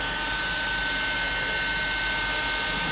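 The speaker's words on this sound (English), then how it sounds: "You can get a cheap heat gun at Harbor Freight" A cheap heat gun used for a blade grip bearing service blows hot air with a loud, steady roaring hiss that stays constant throughout, with no talking.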